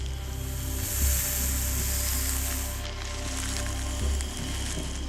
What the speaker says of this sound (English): It coils its body and rubs its scales together to make a sawing sound.